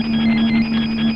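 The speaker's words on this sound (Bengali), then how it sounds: "কেরে এত ফোন করে?" Telephone ringing indoors, a loud steady electronic ring tone sounding continuously and close for the whole short stretch, with no talk over it.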